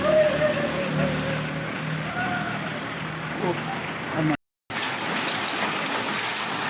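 Rain falls steadily in Kashmir, a dense continuous patter and hiss broken by a sudden brief silence, with a faint voice and a rising tone early on.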